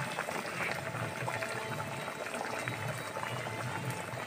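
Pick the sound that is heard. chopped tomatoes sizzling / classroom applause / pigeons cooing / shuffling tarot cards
chopped tomatoes sizzling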